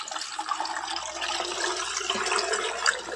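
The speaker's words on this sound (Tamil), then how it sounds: "தண்ணி ஊற்றிக்கலாம்." Water pours steadily and splashes into a vessel of cut raw mangoes for pickling, a continuous close hiss with no one speaking.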